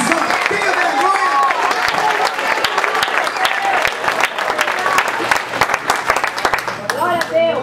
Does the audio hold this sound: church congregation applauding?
yes